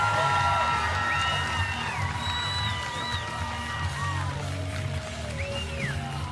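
A bass fishing tournament weigh-in crowd at Lake Guntersville cheers for a hometown angler, with whoops, shouts and scattered clapping rising over a steady crowd roar, moderately distant.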